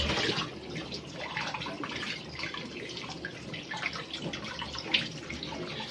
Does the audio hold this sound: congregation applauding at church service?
no